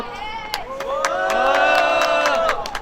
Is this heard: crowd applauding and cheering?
yes